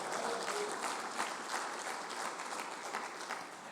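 A church congregation claps during a sermon, a fairly quiet but sustained patter of many hands with a few louder accents, heard from some distance under faint murmuring.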